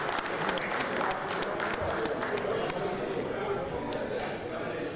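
Steady crowd applause fills a school anniversary gathering, dense and continuous, with speech mixed underneath.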